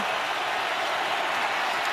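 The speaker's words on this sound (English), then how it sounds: "Crowd roaring." A packed football stadium crowd roars steadily throughout an NFL game between the Seattle Seahawks and Arizona Cardinals, a dense, unbroken wall of cheering noise at even loudness.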